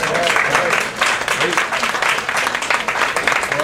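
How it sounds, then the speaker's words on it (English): Room audience clapping during a heart-health nutrition talk, a continuous crackle of applause throughout with a few voices mixed in underneath. "give her a round of applause."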